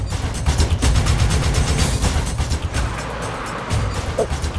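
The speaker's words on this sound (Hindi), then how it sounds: "तुम गाड़ी इतनी तेज क्यों चला रही हो?" A car driven very fast, its engine roaring loud and close with rushing road and wind noise and fluttering bursts, no talk.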